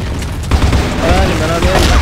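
A grenade blast in the online shooter CrossFire hits as a sudden booming burst about a quarter of the way in, followed by gunfire-like game noise under excited voices talking throughout.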